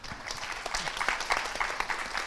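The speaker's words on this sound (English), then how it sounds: "Can I ask the audience to join me to give a round of applause for our 4 speakers?" An audience at a DNS industry forum panel gives a round of applause for four speakers, a brief moderate burst of scattered clapping from a modest crowd.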